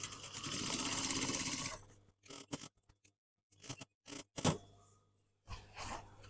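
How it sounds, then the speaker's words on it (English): A sewing machine stitches denim jeans along a previously unpicked seam in one close burst of nearly two seconds, followed by short clicks, snips and handling noises as the fabric is adjusted. "I'm stitching in the same line that was unpicked"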